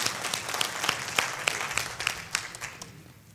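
A church congregation at a Sunday service claps a welcome for visitors, a few seconds of scattered, uneven handclaps with sharp individual claps standing out, gradually thinning and fading toward the end.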